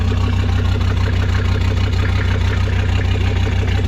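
A truck engine running on black diesel, a homemade fuel of waste oils, idles at a loud, steady, close-up rumble with an even low throb and no voices.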